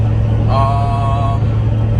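A Ford 6.0 Powerstroke diesel truck drives along with a steady, loud low rumble, and a brief whistling tone rises above the drone midway through.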